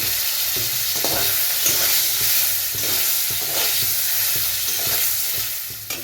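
Steady, crackling sizzle of potato pieces frying in a pan, with occasional stirring scrapes, close and continuous throughout.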